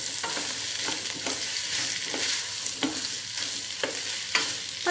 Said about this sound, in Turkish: Patateslerimi de şöyle 1-2 dakika yağda kavuracağım.